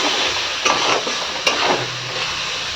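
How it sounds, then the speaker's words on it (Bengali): Ground cumin and chili powder being stir-fried in a pan with cabbage to follow, a steady close sizzle broken by two sharp scrapes of a spoon against the pan. "এক শিশি জিরে গুঁড়ো দেবো এবার ভালো করে কষিয়ে নেবো"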